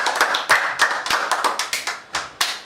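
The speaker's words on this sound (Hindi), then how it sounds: "जोरदार ताली बजाए।" Loud clapping from a few people on a quiz-show comedy set, a string of sharp, distinct hand claps at an uneven rhythm, close and without talk.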